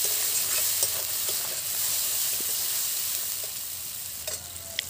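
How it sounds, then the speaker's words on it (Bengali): Ground spices including red chilli powder being mixed into hot oil in a frying pan, a steady sizzle with occasional faint scraping stirs, close and even. "এবার এগুলো মিশিয়ে নেব।"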